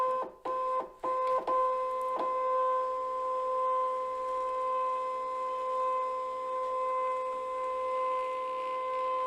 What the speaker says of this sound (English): that will feed the mat through and that will scan your image